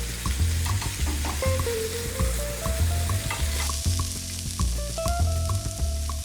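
Chicken pieces being grilled in a pan for butter chicken, a loud, steady sizzle and fry running throughout, with occasional stirring clinks and scrapes layered on top and no voices.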